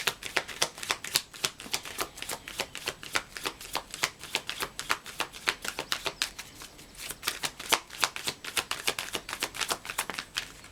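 Tarot cards shuffled by hand in a steady run of quick riffling bursts and soft flutters, close and continuous, with no talking.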